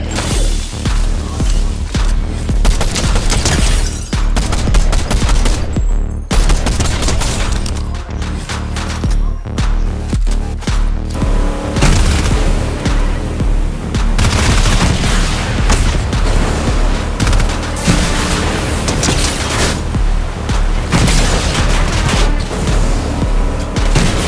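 Dense gunfire and explosions in a Fortnite match, a loud continuous barrage of shots and booms with almost no breaks.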